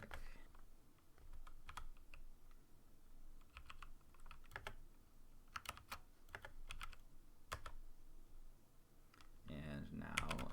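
Computer keyboard keys tap in quick irregular bursts, close and faint, as a terminal command is typed, with a brief louder rustle near the end.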